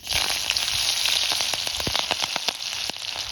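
Green chilies sizzling in hot ghee on a clay village stove, a loud steady hiss of frying with crackling pops scattered throughout, close and continuous with no voices.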